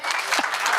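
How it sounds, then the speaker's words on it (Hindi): A brief burst of audience applause at an occult summit, close and full, with a faint voice briefly audible beneath the clapping. "बहुत तालियां बजाओ भाई।"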